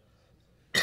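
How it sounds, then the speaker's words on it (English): A single harsh cough from a man with a bad cold bursts out at the very end after near silence, loud and close. "excuse my cough"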